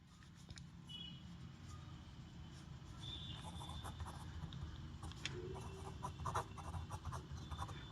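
Faint scratchy writing strokes during a maths lesson, heard as soft, uneven scraping under a low steady background hum, growing slightly busier toward the end.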